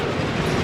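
A Ghost Train ride car rolls along its track at Blackpool Pleasure Beach, making a loud, close, continuous rumbling clatter in a very short burst.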